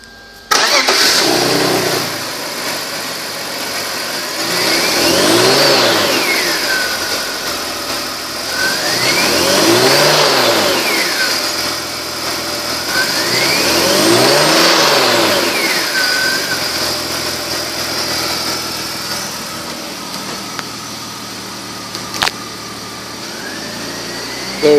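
A 2002 BMW 325xi with 168,282 miles cranks and catches, then revs three times in slow, even rises and falls before settling into a steady idle, loud and close with no talk.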